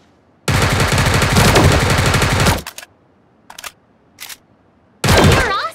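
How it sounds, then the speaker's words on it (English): Sausage Man mobile game gunfire: a loud two-second burst of rapid automatic shots, then a few short isolated bursts with silence between, and another burst starting at the end. "Aim and tap the fire button to shoot out."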